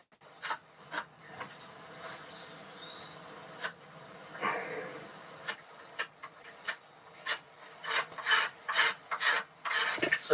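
A coarse flintknapping stone scrapes and sands along the edge of a debarked wood piece outdoors, giving a series of short, sharp rasping strokes at an uneven pace, close and fairly quiet, with no talk.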